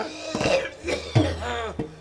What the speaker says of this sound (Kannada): ಕೊರೋನಾ ಅಲ್ಲ ಕಾರಣ ದಮ್ಮು ಕೆಮ್ಮು ಬರ್ತಾ ಉಂಟು